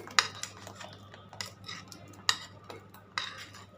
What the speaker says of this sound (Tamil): இப்போ இதில் நம்ம உருட்டி வச்சிருக்கிற இந்த கொழுக்கட்டையை போட்டுக்கலாம்.